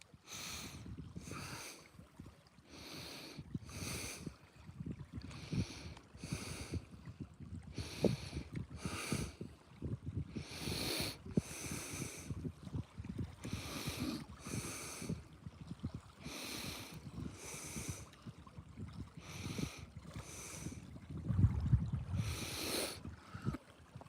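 Cold wind sweeps over the icy Haystack Reservoir, buffeting close in repeated gusty bursts that rise and fall in an uneven rhythm.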